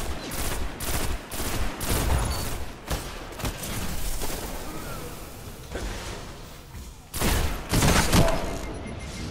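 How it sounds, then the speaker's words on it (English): Shotgun fire in the video game Destiny: a string of loud, heavy blasts repeating at an irregular pace, with a dense cluster of shots near the end, heard alone without talk. "Motherfucking shotgun."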